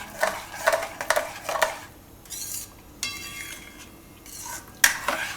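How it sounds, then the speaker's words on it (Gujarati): A spoon stirring gulkand barfi mixture in a pan, intermittent close scraping and clinking strokes with a soft cooking hiss beneath, several distinct strokes spaced over a few seconds, with no voices. "આને આપણે વચ્ચે વચ્ચે હલાવતા રહીશું, એટલે ચોટે નહીં તરીએ."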